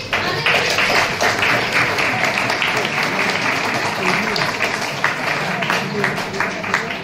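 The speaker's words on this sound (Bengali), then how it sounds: "আমরা সকলে কিন্তু হাততালি দিয়ে" A college convocation audience breaks into loud, sustained applause, with dense crowd clapping holding steady for several seconds and faint voices mixed in.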